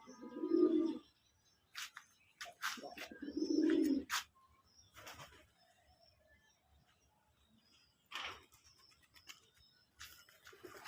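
Domestic deshi pigeons coo in low, throaty bursts, two strong calls early on, followed by scattered chirps, rustles and faint wing sounds at moderate distance, with no voices.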